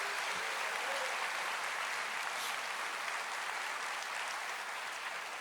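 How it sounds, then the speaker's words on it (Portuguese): A church congregation applauds throughout at an evangelical service, a dense, steady roar of many hands clapping at once, loud and continuous without a break. "Você pode aplaudir o Senhor"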